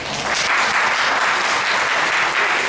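A steady round of applause from the audience at a school science awards programme, dense and continuous from start to finish with no break or voice.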